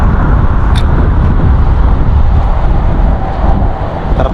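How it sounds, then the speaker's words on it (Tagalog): Steady, loud wind roars and buffets the microphone outdoors by the sea at high tide, a continuous rumbling rush with no voices. "Medyo malakas-lakas po ang hangin ngayon."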